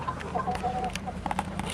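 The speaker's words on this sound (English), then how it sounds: "This is the most enormous, savage-looking chicken in the entire world." An enormous rooster at a fair clucks in short repeated bursts, close by, over steady crowd and barn hubbub.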